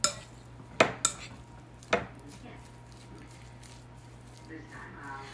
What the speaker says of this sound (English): we're just stirring it all together